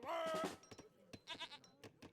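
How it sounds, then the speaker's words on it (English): Goats in Age of Empires III let out one long wavering bleat, followed by short soft clicks and faint game sounds, all quiet. "These goats are fattening up."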